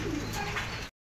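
A racing pigeon coos softly amid a dense wash of background noise, one low throaty call under a steady hiss, cut off abruptly.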